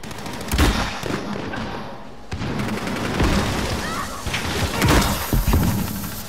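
Gunfire and explosions during Call of Duty Modern Warfare gameplay against bots, dense bursts of shots and booms that carry on steadily for several seconds, mixed with game noise and some voices.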